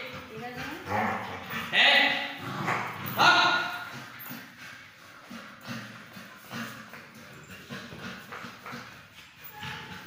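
A dog barks and yips a few times at close range, mixed with ongoing talk from people nearby.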